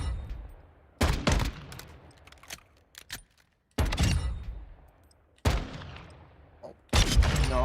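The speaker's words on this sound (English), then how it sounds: "So it's just a deagle with a fast fire rate." Heavy, fast-repeating shots from a deagle-style pistol in Black Ops Cold War Zombies ring out in loud bursts roughly every second or two, each blast decaying with a booming tail, with some clicks between.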